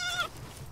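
A single short sheep bleat from the video game Palworld, clear and brief, then quiet.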